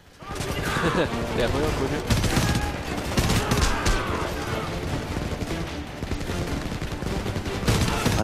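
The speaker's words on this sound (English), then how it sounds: "The awkward moment when you start shooting an enemy Huey with an AK-74" Sustained automatic AK-74 fire aimed at an enemy Huey in Homefront, dense rapid bursts running almost nonstop at close range, with a player's voice talking briefly over the shooting.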